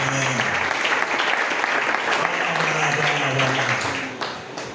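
A congregation at a church service applauds together, a dense, steady wash of clapping lasting throughout and tapering slightly at the end, with some voices mixed in.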